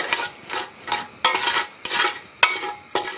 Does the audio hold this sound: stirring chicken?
yes